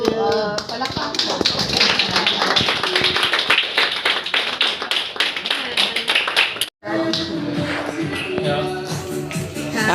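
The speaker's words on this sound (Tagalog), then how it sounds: "Palakpak po" A family at a birthday celebration claps in a quick, steady burst of many hands, with voices chattering over it, a brief break, then talk and clapping resume.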